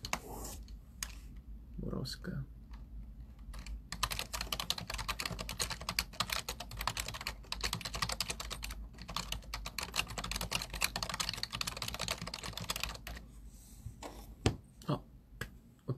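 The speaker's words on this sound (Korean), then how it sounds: "그럼 제가 타자로 한번." Fast, steady typing on a computer keyboard throughout a Christmas-season live stream, with dense close clicking running under a man's intermittent speech.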